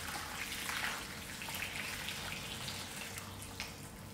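Boiled water pours onto pig trotters (gori) set out for washing, a steady splashing gush lasting a few seconds, fairly soft and close, with no one speaking.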